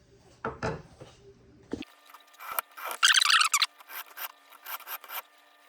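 Knife blade drawn across a sharpening stone in repeated strokes on each side, giving short scraping and rasping passes in uneven bursts with brief gaps, close and fairly loud.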